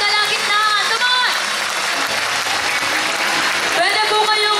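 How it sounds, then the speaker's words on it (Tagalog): A church congregation claps loudly and continuously in praise to God, a thick roar of applause with voices speaking over it at the start and end. "30 segundong palakpak para po sa ating Diyos na nasa ating kalagitnaan."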